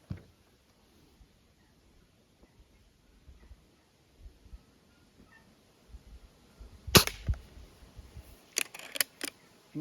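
Several sharp, crisp shots from a Soviet-era IZh-38 air rifle: one loud crack, then a few more in quick succession near the end, over a quiet outdoor background.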